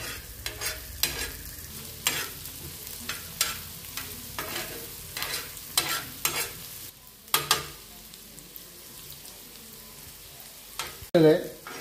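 Chopped onion frying in a pan until browned, a steady sizzle broken by repeated scraping stirs of a spatula, close and clear, with a brief voice near the end.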